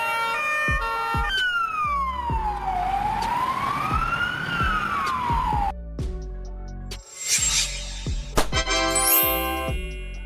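Polish ambulance sirens from Mercedes-Benz Sprinter, Volkswagen Crafter and Fiat Ducato vans, loud and near, shifting between a rising-falling wail, rapid yelps and two-tone hi-lo patterns, with electronic horn blasts.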